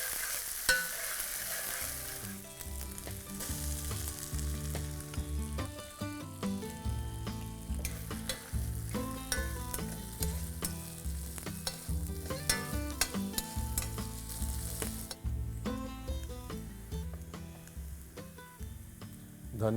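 Cumin with ginger, garlic and green chili paste frying in a pan for Old Delhi style egg bhurji masala, a loud continuous sizzle with frequent spoon clicks and scrapes throughout.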